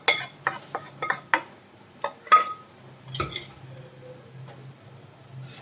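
Spoon stirring roasted masala powder in a pan over a low flame, for a stingray curry made without coconut: a few distinct clinks and scrapes near the start, then softer intermittent stirring with a faint low hum underneath.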